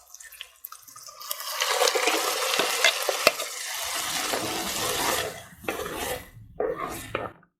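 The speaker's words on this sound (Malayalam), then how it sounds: "ഇനി നമുക്കിതിലേക്ക് നമ്മൾ അരച്ച് വെച്ചിരുന്ന അരപ്പൊഴിച്ച് കൊടുക്കാം." Ground coconut paste for a Kerala-style roasted coconut fish curry is poured into a hot pan and stirred. A sharp hissing sizzle and scraping build quickly, then die down into bursts of gentle bubbling and stirring.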